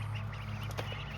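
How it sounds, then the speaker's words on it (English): A short duck quack or two over a low steady hum, fairly quiet and close. "You guys remember the ducks?"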